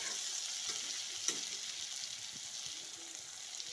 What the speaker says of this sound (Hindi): तो इसको अच्छा से फ्राई करना है अंदर तक।